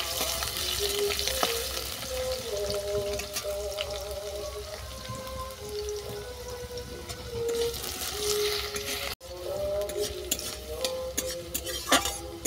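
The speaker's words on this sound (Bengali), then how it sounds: "আলুটা বাদামি করে ভেজে নেব।" Cut potatoes frying in oil after a spice tempering, cooking until brown, with a constant loud crackling sizzle and scattered sharp pops and stirring scrapes close by, over faint tonal background music.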